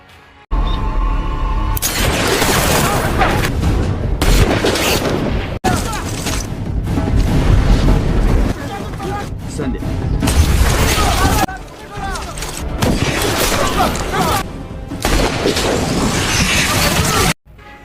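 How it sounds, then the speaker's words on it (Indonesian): War-film gunfire and heavy blasts fill the scene, loud and nearly continuous, with a narrator speaking over the battle noise and a few brief quiet gaps between bursts. "Mayor Miller menyuruh anggota yang lain untuk menembaknya"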